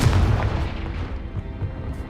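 A Confringo fire spell blast in the video game Hogwarts Legacy, a single loud, deep booming burst that rumbles and fades over about two seconds.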